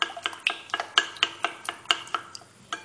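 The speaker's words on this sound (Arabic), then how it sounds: "نخلط الصفار مع البياض باش كيف كيف" Egg yolks being beaten together with egg whites in a bowl, a steady run of light clinking strokes roughly every half second, close and clear with no talking.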